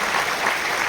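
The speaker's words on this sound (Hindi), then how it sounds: "जोरदार तालियां होनी चाहिए सर के लिए।" An audience at a meeting claps loudly, with dense, continuous applause from many hands filling the whole moment.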